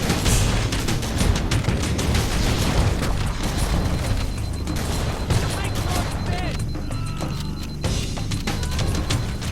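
Booming grenade blast amid heavy gunfire in Halo: Combat Evolved, loud continuous explosions and shots layered together, with someone talking over the din.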